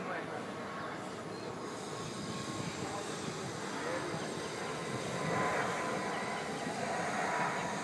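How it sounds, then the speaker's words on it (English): A steady, broad engine roar drones throughout, swelling slightly near the end, like an airplane passing overhead. "and then there is a plane again"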